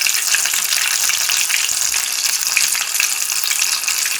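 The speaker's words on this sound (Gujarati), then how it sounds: "કઢાઈમાં સમાય એટલે આપણે વડા એડ કરી અને ગેસને આપણે મીડિયમ રાખીશું અને એને ફ્રાય કરી દઈશું." Sabudana vada deep-frying in hot oil in a kadai over a medium flame, giving a steady, dense crackling sizzle that holds evenly throughout without a break.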